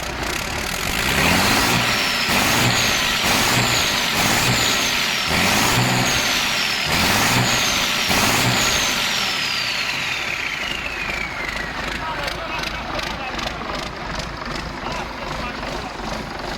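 A large truck engine revs hard over and over in a steady pulsing rhythm, close and loud, with a whining tone that rises and falls.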